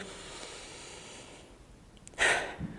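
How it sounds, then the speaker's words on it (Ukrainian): A quiet, drawn-out breath in is followed by a short, forceful exhale, close up with no talking. "Повільно вдихаємо і різко видихаємо."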